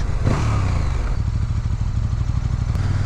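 A 2019 KTM Super Duke GT motorcycle engine runs steadily while riding through town in low gears, a close, continuous mid-pitched drone with faint mechanical clatter and no talk.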